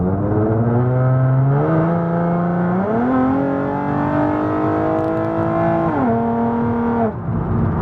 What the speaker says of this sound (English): You get the cool noise of a turbo.